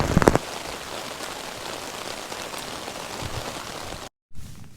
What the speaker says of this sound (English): the rain pelting down and flashes of lightning illuminating our tent